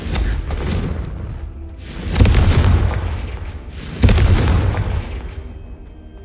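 Confringo fire spell explosions in the video game Hogwarts Legacy, two heavy booming blasts about two seconds apart over a loud rumbling roar, each trailing off in a long fading rumble.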